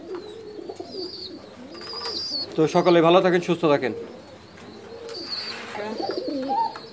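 A pigeon recovering from egg binding coos in soft, rolling phrases, close by, while a person talks over and between the calls.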